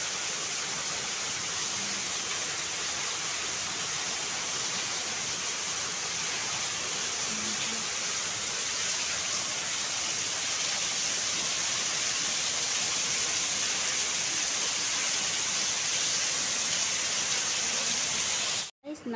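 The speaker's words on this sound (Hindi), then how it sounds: "बहुत ज़्यादा तेज़ बारिश है।" Steady, dense hiss of heavy rain pouring without pause, loud and close, ending abruptly.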